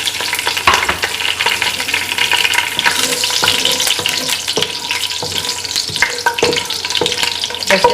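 Whole spices — cinnamon, green and black cardamom, cloves and black peppercorns — frying in hot oil, a close, busy sizzle with repeated stirring scrapes and clicks against the pan.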